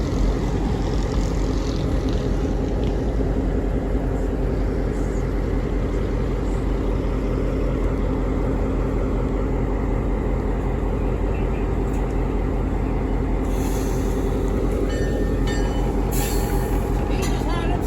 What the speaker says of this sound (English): We're going to go put our locomotive up on track 2